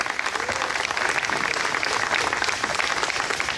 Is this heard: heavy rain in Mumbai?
no